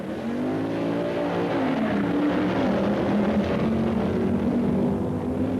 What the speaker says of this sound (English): The Star Hickey Ford in the near lane races the Golden Commandos Plymouth.